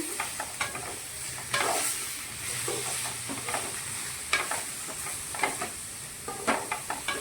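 Sliced tomatoes frying in a pan for vegetable kurma hiss and sizzle steadily, broken by repeated scraping clicks of a spoon stirring at close range.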